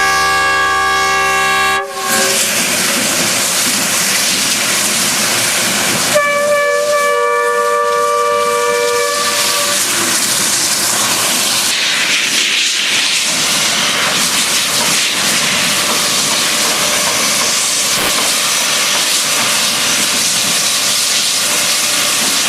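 A Chinese QJ (Qianjin) class steam locomotive works a train on a steep line, loud continuous steam hiss and rail rumble throughout, with a brief whistle-like tonal blast early on and another band of tones midway.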